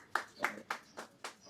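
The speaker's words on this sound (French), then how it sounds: "c'est joli, on applaudit." A few people clap for a freshly made sand painting on Gorée island, five sparse, separate claps spaced roughly evenly, close by and fairly soft.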